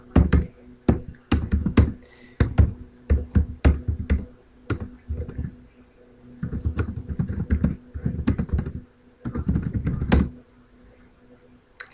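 Rapid typing on a computer keyboard while entering a Google search, close and clear, with dense bursts of key clicks in uneven runs and short pauses between them.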